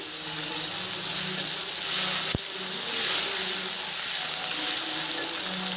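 Chopped tomato hits hot oil in a pan while chana dal is being cooked, giving a steady, bright sizzle and hiss that runs throughout, with one sharp click partway through.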